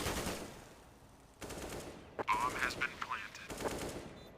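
Gunfire in a Counter-Strike match at the 2019 DreamHack Open Rotterdam grand final, a few sharp bursts and volleys mixed under excited commentary.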